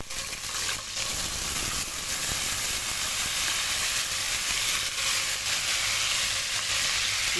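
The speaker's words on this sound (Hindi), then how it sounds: "अब हम इसको सबसे पहले फ्राई करना शुरू करेंगे।" Pieces of taro root (arbi) sizzle steadily in hot oil in a pan, a loud, continuous frying hiss with no talking.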